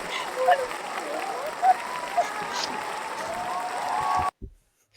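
A soundboard cheer-and-applause effect plays on a podcast: a crowd of clapping and scattered whoops at steady volume, cutting off abruptly near the end into silence.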